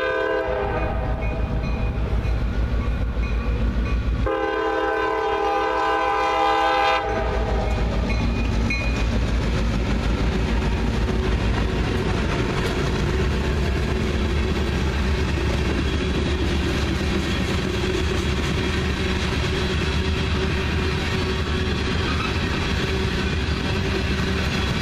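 CSX freight train passing with its horn, loud harmonic horn blasts in the opening seconds followed by a sustained roar of the locomotive and rumbling, clattering freight cars going by close at hand, with no talk.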